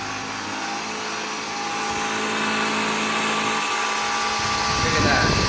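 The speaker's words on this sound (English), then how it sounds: "So let's see how well this Bissell Airram performs." A Bissell Airram cordless upright vacuum runs close by indoors, picking up a dropped cracker on the floor, with a steady, rising whine and hum that grows slightly louder over a few seconds.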